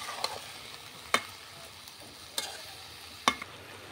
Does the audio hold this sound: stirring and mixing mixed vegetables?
yes